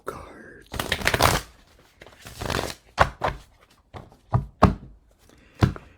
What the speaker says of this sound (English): That is the sound of someone shuffling tarot cards.